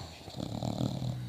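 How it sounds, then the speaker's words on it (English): A sleeping dog snores up close, a short soft rumbling breath with a faint wheezy rattle, quiet and steady. "He's snoring his head off."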